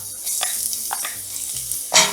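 Garlic sizzles in hot oil in a pot, a soft continuous hiss broken by a few spatula scrapes and a sharper sizzle burst at the end, heard up close with no talking.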